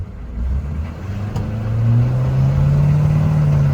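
A Detroit 6.2 diesel engine runs in bitter cold with a low, steady rumble that rises slightly partway through, close and continuous with no talking.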